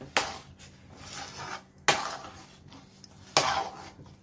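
Chana dal puran with nutmeg and dry ginger powder is stirred in a pot, giving three sharp knocks of a spoon against the metal, each followed by a softer scraping swish, close and fairly quiet.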